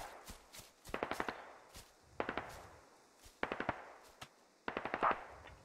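Rifle fire in the tactical shooter game Squad comes in short, sharp automatic bursts of three to five rounds, separated by brief pauses, fairly close but modest in level.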